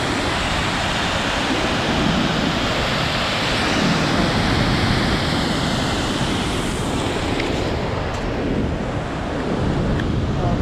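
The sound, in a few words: waterfall at Fenelon Falls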